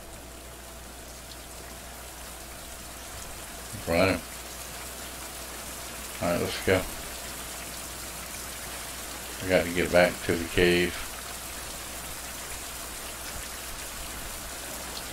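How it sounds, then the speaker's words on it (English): Steady rain falls in a survival video game, a soft, even hiss of drops throughout, with someone speaking briefly over it a few times. "Oh, rain."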